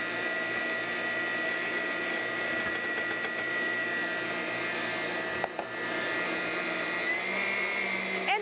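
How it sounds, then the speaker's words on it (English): An electric mixer whirs steadily as it blends peaches with sugar, a constant motor drone that holds even and fairly loud, with one short dip near the end. "So we're going to put it in our mixer and get this going."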